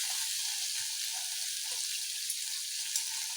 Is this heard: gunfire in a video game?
no